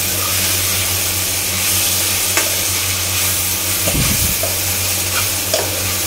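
Okra (bhindi) frying with spices in a pan, with a steady loud sizzle throughout and a few spoon-stirring scrapes near the middle.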